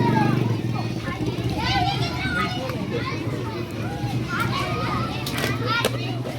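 Many children shout and chatter at once in a lively outdoor crowd as school lets out, with steady traffic rumbling underneath.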